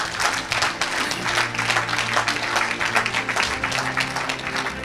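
A church congregation breaks into sustained, dense applause for Jesus, with crowd voices mixed into the continuous clapping.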